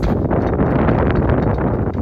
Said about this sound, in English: Sorry about the wind, guys. It's kind of windy right now,